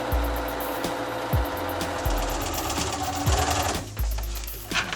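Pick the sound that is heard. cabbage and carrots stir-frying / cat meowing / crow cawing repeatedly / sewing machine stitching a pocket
sewing machine stitching a pocket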